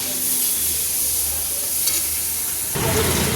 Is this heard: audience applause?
no